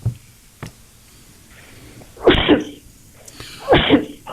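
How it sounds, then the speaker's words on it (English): A man on a late-night phone-in radio show sneezes twice down a phone line, each sneeze a loud sharp burst about a second and a half apart, with small clicks and breaths before them. "I'm going to sneeze."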